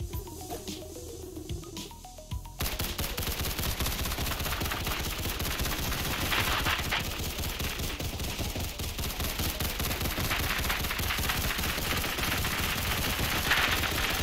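A minigun in the Roblox game Tower Defense Simulator opens up after a short quieter stretch, then keeps up a continuous rapid rattle of fire for many seconds, loud and steady with no talking.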